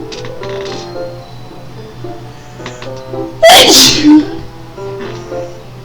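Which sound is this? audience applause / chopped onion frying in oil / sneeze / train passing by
sneeze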